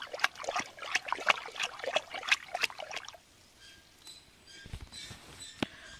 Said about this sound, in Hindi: सर मैंने पानी में इसको डाल दिया है अभी हम इसको अच्छे से पानी में मिला लेते हैं